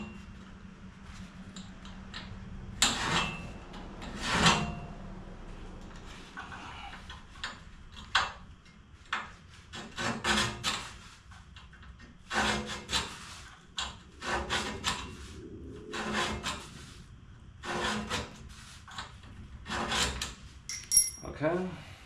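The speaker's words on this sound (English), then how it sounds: "we'll take our scribe and we'll just scribe a line in this plate." A steel scribe scratches a line into metal plate during C-notch work on a 1955 GMC 100, heard as faint, short scraping strokes in irregular bursts against a quiet background.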